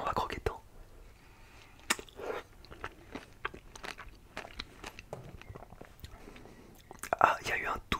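Crunchy bites and wet chewing of a dragon fruit, close and quiet, with a few sharp crunches at the start and a louder burst near the end, set among soft whispered talk.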